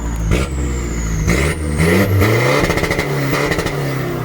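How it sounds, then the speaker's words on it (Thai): A 2018 Isuzu D-Max 1.9 pickup engine revs hard in gear with the clutch held in, climbing repeatedly and bouncing off the rev limiter in rapid stuttering cuts, loud and close with no talking. "เข้าเกียร์ เบิ้ลครับ นี่นะครับ เบิ้ลตัดได้ครับ"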